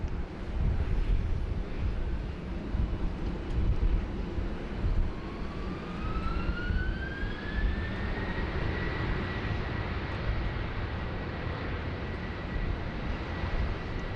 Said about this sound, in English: here she goes, the 330-300 off to Manila in the Philippines